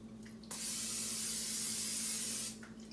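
Cooking spray misted onto a casserole pan in one continuous, close hiss lasting about two seconds, steady and fairly loud, with brief quiet before and after and no talking.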